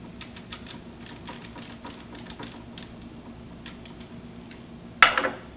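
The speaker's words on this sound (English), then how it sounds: "Grab a ratchet and tighten them down real quick." A ratchet tightens nuts on a cable connector with a run of light, quick clicks at close range, then ends in a sharper metallic clank.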